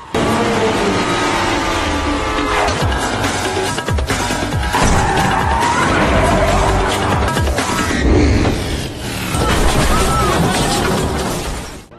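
Cars crash, smash and skid during a film car chase, with loud crunching impacts, shattering bursts and screeching scrapes in quick succession, some voices heard among the chaos.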